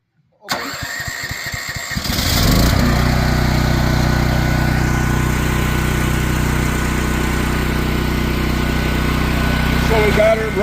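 A Champion dual fuel generator running on propane starts with a rapid cranking chatter, then catches and settles into a loud, steady engine drone that holds close and constant to the end.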